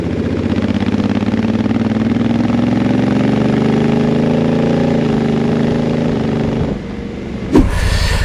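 Car engine fitted with a stainless steel exhaust, recorded from the rear, holding a steady loud idle-like drone whose pitch rises slightly and falls, then drops off near the end with a brief knock.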